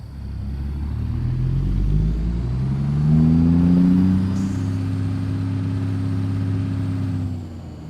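A truck engine in a truck simulator game drones low and steady as the truck pulls forward, its pitch climbing in a smooth rise as it accelerates before easing off and fading near the end.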